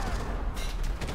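Gunfire in the World War II shooter Enlisted: a dense, continuous crackle of overlapping shots and distant booms from a battlefield, filling the whole moment at steady loudness.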